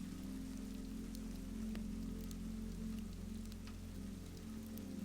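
Steady rain falls on a surface, a constant soft patter with occasional distinct drops and a low background hum, gentle and unbroken for the whole stretch.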